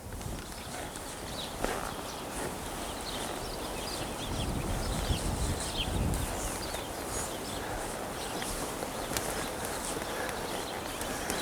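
A cutting horse working cattle walks with soft, irregular hoof clops on a dirt arena floor, buried in dense, steady outdoor noise with faint bird calls.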